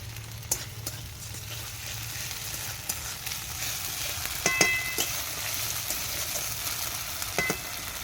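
Chopped onion with ginger paste, cumin paste, garlic and chilli paste is stirred in a pan for ghugni, with a steady low sizzle and occasional sharp clinks of the spoon against the pan.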